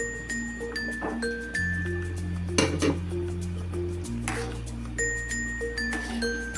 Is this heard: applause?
no